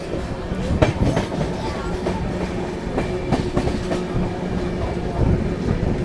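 Gondwana Superfast Express on its run out of Mathura Junction as another train passes on the adjacent track: a loud, continuous rumble with rapid clickety-clack of wheels over rail joints throughout.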